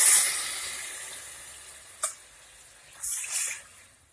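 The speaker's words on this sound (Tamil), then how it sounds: "இப்போ நீங்க எடுத்து வச்சுக்கிற அரிசிக்கு தேவையான அளவுக்கு தண்ணீர் அளந்து ஊற்றிக்கலாம்." Water being measured and poured into a pan of sautéed tomatoes for village-style fenugreek seed rice, a faint splashing trickle with two brief louder pours toward the end, no talk.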